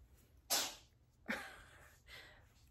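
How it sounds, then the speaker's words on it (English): A cat sneezing in a fit indoors, three sharp sneezes spaced under a second apart, close and fairly quiet against a soft background hum. "he gets these sneezing fits."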